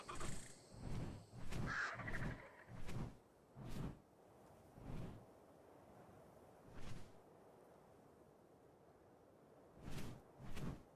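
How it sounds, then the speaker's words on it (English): Birds calling in the survival video game Ark Survival Evolved, a series of harsh crow-like caws repeating in bursts over a faint ambient bed, fairly distant and quiet with no speech. "Birds everywhere."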